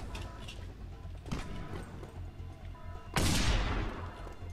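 A mounted gun firing in Just Cause 2, rattling shots in a steady battle din that swells into a heavy, sustained burst of gunfire near the end.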